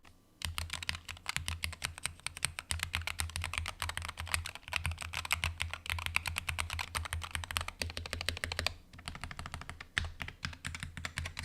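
A modded compact gaming keyboard with non-clicky switches is typed on steadily and quickly. The dense, even clatter of keystrokes sounds close and alone, with a brief pause near the end.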